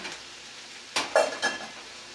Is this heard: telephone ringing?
no